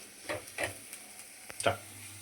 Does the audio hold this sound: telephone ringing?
no